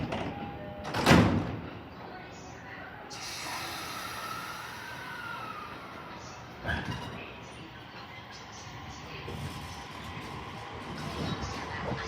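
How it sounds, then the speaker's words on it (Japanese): Doors of a JR East E231 series train on the Shonan-Shinjuku Line close at a station platform with a short thump, followed by the steady low rumble of the train pulling away and a later clunk, under faint station ambience. "Please stand clear of the closing doors."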